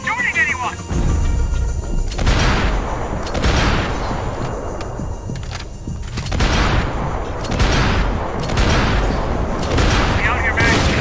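Dense, loud gunfire in Max Payne 3, with repeated sharp shots and bursts running through the whole stretch alongside in-game voices.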